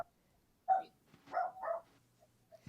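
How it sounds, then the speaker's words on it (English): A dog barks a few times over a phone line, short muffled yips and barks in quick succession with quiet gaps between, thin and distant through the call. "My dog barking."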